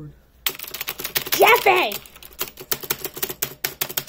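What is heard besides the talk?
typing on a new 60% keyboard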